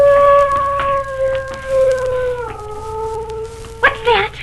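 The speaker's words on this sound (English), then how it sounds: "It sounded like a wolf." A long, wavering howl like a wolf or dog rises and holds for several seconds, then breaks into a yelping cry at the end, prominent and close over a faint low background hum.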